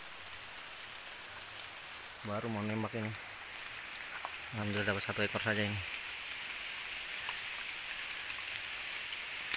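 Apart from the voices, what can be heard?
rain falling in mangrove forest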